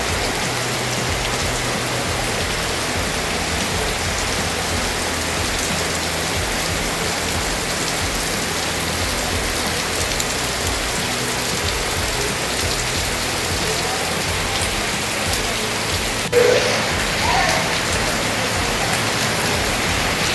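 Steady rain at the Achankovil PWD rest house in Kerala, a dense continuous hiss of drops pattering on surfaces, even and unbroken throughout, with no voices.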